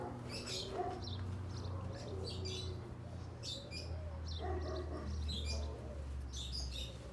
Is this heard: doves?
yes